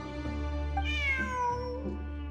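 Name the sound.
cat meowing in Genshin Impact video game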